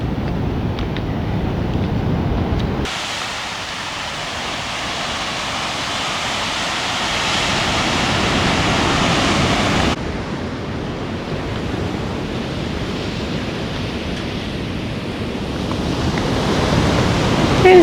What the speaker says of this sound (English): You hear something's happening. Big swell there.